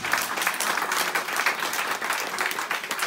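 Congregation clapping during a French-language church service, a dense, lively round of applause with slight surges that continues steadily throughout.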